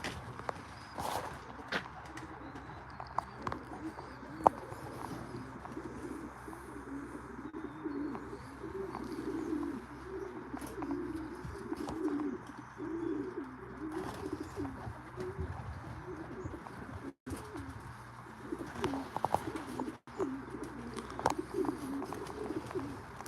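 Racing pigeons coo steadily at their loft, soft rolling calls repeating under light chirps, a few footsteps and scattered knocks.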